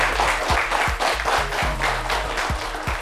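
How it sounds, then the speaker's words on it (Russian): Studio audience applause on a TV talk show about online safety, a dense steady wash of clapping filling the whole moment, close and loud, with a low hum underneath. "Ваши аплодисменты"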